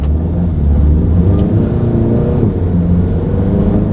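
Engine note of a Mk7 Volkswagen GTI fitted with a Powerflex dogbone mount insert as the throttle is blipped, a steady loud low rumble swelling with the revs throughout, with no talking.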